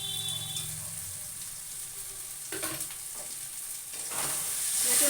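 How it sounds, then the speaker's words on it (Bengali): Spice paste with tomatoes and yogurt frying in a pan, a steady close sizzle with scraping stir sounds midway, the hiss growing louder toward the end, no voices. "এরপর একটু টমেটো দিয়ে দেবো, কেটে রাখা টমেটোগুলো দিয়ে দেবো, আর একটু 2 মিনিট মতো ভেজে নেবো।"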